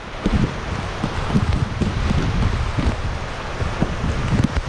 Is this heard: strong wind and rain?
yes